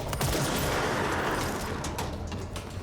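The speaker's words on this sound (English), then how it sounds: "Can I shoot his backpack and explode him?" Rapid gunfire in the video game Control forms a loud, dense, continuous barrage that crackles close for nearly three seconds before easing slightly.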